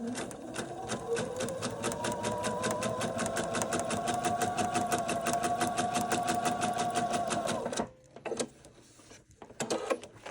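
A sewing machine stitches along a marked line on a quilt block, running steadily and close for about eight seconds with a rapid, even needle rhythm, then stopping with a few short bursts and clicks.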